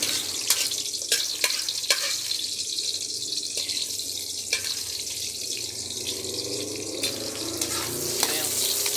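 Chopped onion frying in a pan for homemade chapsoy with shrimp, a steady hiss of sizzling oil broken by clacks and scrapes of a utensil against the pan, close and continuous with no talking.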